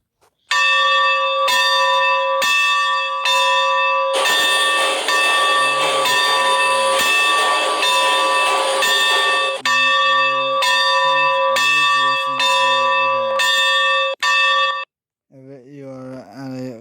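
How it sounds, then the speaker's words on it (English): A railroad crossing bell at a train museum rings loud and steady in rapid repeated strikes, swelling into a dense clanging stretch mid-clip, with a short pause near the end before the ringing resumes. "If you are at a crossing and you will hear the bell but don't see a train coming"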